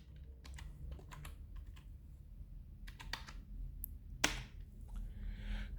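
Quiet keyboard typing while entering C code, bursts of close clicky keystrokes separated by short pauses, with one sharper tap near the end and no talking.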